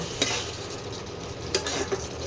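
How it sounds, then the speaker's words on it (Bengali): Dry spices including turmeric fry in a pan with a splash of water, a steady loud sizzle under occasional sharp clicks of a utensil stirring, close up and without speech. "সামান্য একটু জল দিলাম, নাহলে মশলাটা পুড়ে যাবে।"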